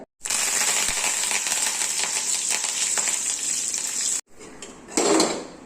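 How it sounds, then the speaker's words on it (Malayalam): Sizzling mustard seed tempering poured into a pumpkin curry: a loud, steady crackling hiss close by for several seconds, then a brief pause followed by a short clatter and a final burst of sizzle. "അപ്പോൾ അതാ ഞാനിവിടെ കടു വറുത്തതും കൂടി ഇതിലേക്ക് ഇട്ട് കൊടുക്കുന്നുണ്ട്"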